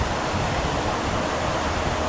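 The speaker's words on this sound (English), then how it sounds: "And you can see the rushing water" Rushing water pours off two small dams at a spring in Mammoth Spring State Park, a dense, steady roar heard up close, loud and unbroken.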